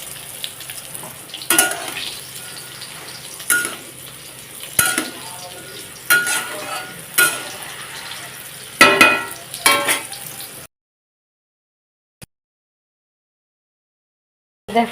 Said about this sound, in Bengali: এদিকে দেখো শাকটাকে আমি গ্যাসের উপরে দিয়ে দিচ্ছি